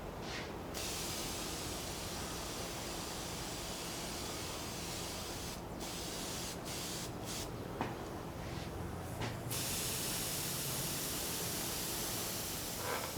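A simple spray gun lays a second coat of lacquer finish, giving a steady, close hiss of air and atomized spray that runs throughout with only brief breaks between passes.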